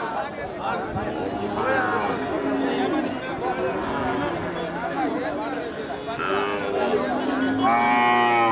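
Cattle moo at the Manapparai cattle market in Tamil Nadu, long lowing calls rising over a dense crowd babble and people talking nearby, with a louder moo near the end.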